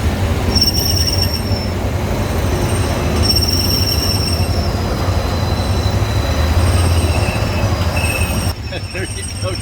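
Disneyland's Tomorrowland monorail train running loudly and steadily up close, a continuous rumble of wheels with high squealing tones that rise and fade in waves, the noise dropping slightly near the end.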